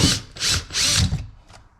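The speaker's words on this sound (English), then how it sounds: "Drill a hole." A handheld power drill bores a hole inside a first-generation Toyota Tundra or Sequoia during a speaker replacement, running in three close, loud whirring bursts and then one shorter, fainter burst.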